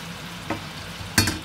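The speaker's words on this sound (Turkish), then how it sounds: "Şimdi kızgın yağın içine mantarları da bıraktım. Güzelce şimdi bunları kavuracağım." Mushrooms fry in hot oil, a quiet sizzle with two short bursts of stirring or scraping.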